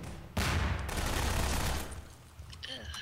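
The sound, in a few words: gunfire in Prop Hunt video game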